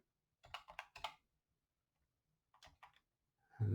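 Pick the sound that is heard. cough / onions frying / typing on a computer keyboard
typing on a computer keyboard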